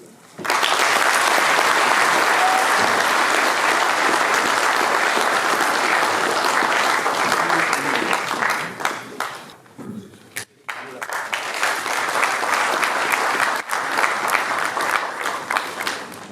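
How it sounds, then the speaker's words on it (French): Audience applause after a speech at a formal event in Cameroon: sustained, loud clapping from a crowd that dips briefly around the middle, then swells again and continues to the end. "Nous n'avons pas assez applaudi le grand maître."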